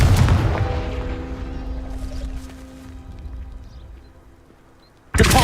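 Confringo fire spell explosion in Hogwarts Legacy, a heavy booming blast that rumbles and slowly fades over several seconds, then a second sharp burst cuts in at the end.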